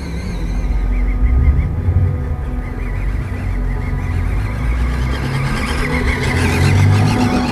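A WPL B36 Ural RC military truck, a radio-controlled model, accelerating harder: a steady mid-pitched motor whine with a low rumble that holds level and swells slightly toward the end, with no talking.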